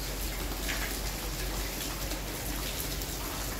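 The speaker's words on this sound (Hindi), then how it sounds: "हमारे यहाँ पे तो बारिश ही बारिश हो रही है" Steady, dense rainfall hissing evenly throughout, with no break and no voices.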